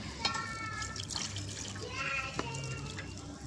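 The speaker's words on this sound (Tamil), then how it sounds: "கொஞ்சம் தண்ணி விட்டுக்கலாம்." Water splashes and trickles into a cooking pot at a soft, close level while making sardine curry, with faint voices in the background.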